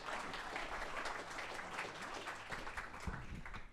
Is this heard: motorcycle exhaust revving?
no